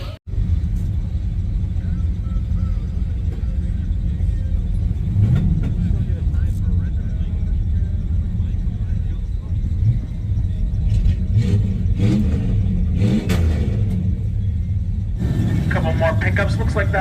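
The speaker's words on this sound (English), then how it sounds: "This van is going to go down the track at Tucson Dragway now." A Chevy van at Tucson Dragway gives off a loud, steady engine rumble and drone at a drag strip, with a brief shift in the noise near the end.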